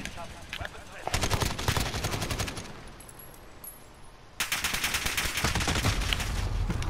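Rapid bursts of AK rifle fire in a Call of Duty Modern Warfare match, loud and close, starting just after a second, pausing around three to four seconds, then resuming in dense automatic strings.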